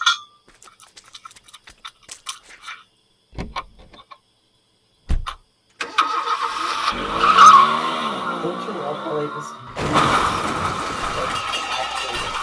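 A cartoon sound effect for a broken-down car being towed: scattered clicks and ticks give way to a long loud screech and rattling engine noise, with voices heard in between.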